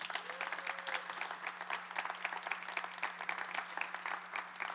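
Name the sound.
applause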